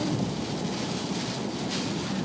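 A heavy rainstorm on Route 15 pours down in a dense, steady roar, loud and unbroken throughout.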